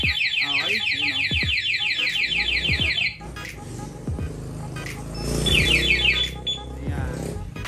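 Motorcycle anti-theft alarm blaring in loud bursts of rapid rising electronic chirps, stopping and then starting again, with someone talking between and under the blasts.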